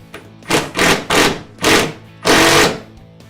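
An impact driver or ratchet tightens a bolt during assembly of an Otter Outdoors XT Crossover ice shelter, heard as five loud, close, rapid hammering bursts in quick succession, the last one longest.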